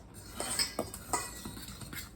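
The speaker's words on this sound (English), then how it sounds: "Now mix this up" A large meat fork mixes biscuit ingredients in a bowl, making soft scraping strokes and a few light metallic clinks against the bowl, quiet and close.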